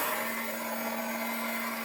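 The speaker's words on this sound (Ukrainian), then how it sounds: "вмикнув цей фен" A 2 kW hair dryer, powered by an inverter petrol generator through an extension cord, blows steadily, a constant loud whooshing rush with a fixed motor hum underneath, no pauses.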